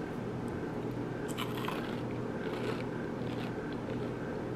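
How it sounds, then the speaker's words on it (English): Crunching bites into a crispy McDonald's hash brown, a few crisp crackling bursts close to the mic over a steady low background hum, with no talking. "you guys need to hear the crunch"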